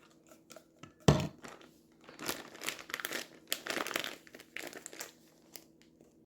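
Raw chicken wings in marinade with red wine vinegar are squished and kneaded inside a plastic freezer bag, giving bursts of crinkling plastic and wet squelching in an irregular rhythm, close up.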